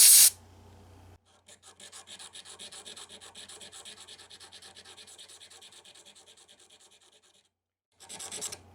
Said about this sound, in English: I might like to sand this with some 120 grit sandpaper going this way to open up the pores of the maple.